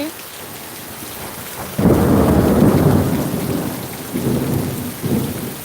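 Heavy rain pours steadily, then a loud rumble of thunder rolls in and fades, followed by further lower rumbles under the downpour.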